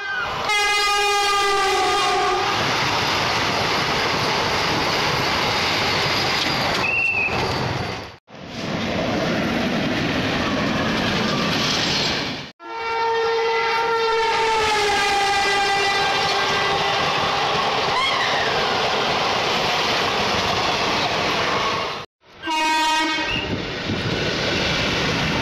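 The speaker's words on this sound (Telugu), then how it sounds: "అన్ని ట్రైన్లు వస్తున్నాయి పోతున్నాయి" Trains at Parvatipuram Town railway station: a loud, sustained rumble of passing rail cars with repeated long horn blasts near and far, the noise filling the whole stretch without talk.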